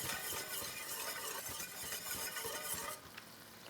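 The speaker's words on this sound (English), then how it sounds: "Take a little mustard and whisk that into the liquid." Mustard is whisked into a brandy cream pan sauce, a fast, busy scraping and sizzling rhythm close up that runs for about three seconds and then drops to a quieter simmer.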